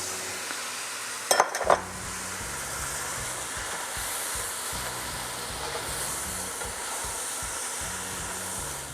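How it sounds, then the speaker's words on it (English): Crawfish tails drop into a pot of gluten-free keto etouffee with a couple of quick splashing plops, then a soft, steady sizzle and simmering hiss continues on its own. "And now we're going to add the crawfish."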